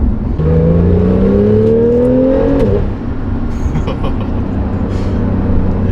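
A Porsche 911 engine pulling at half throttle from inside the car, a loud steady drone whose pitch climbs smoothly through the rev range, then drops at a shift and settles back into a continuous engine roar.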